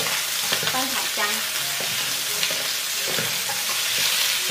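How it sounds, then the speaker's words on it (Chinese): Ginger slices are stir-fried in a wok with a loud, constant sizzle, broken by repeated scraping and clattering strokes of the spatula. "翻炒姜"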